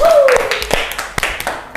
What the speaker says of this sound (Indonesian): tepuk tangan buat kita semua yang keren hari ini, detektif